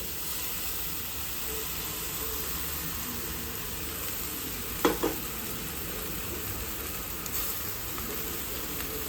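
Soaked puffed rice sautéing in a hot pan, a continuous close sizzle and hiss with a brief scrape of stirring midway, no talking.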